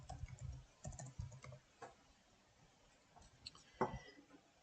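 Soft typing on a computer keyboard, a few short bursts of key taps with gaps between them, fairly quiet and close, with no talking.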